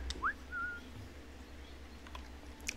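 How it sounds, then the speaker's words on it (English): A player character in Assassin's Creed III gives a short two-note whistle, a quick rising note then a brief flat one, faint over quiet game ambience. "Use my whistle and then strike him."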